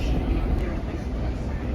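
Steady low rumble of a New York subway train riding out from Jackson Heights, a continuous close, loud rolling drone with no break and a faint voice briefly audible under it.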